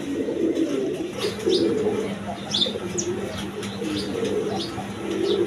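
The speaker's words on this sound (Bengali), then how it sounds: "নর কবুতর" A male pigeon coos in low repeated rolls nearby while smaller birds chirp in short high notes around it.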